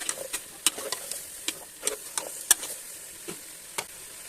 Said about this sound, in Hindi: सब्जियों को ऑयल में फ्राई करेंगे थोड़ा सा, फिर हम इसमें आलू डाल देंगे।